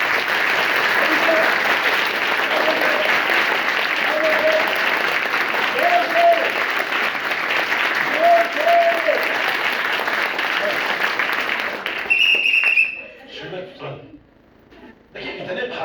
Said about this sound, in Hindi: ताली जोर से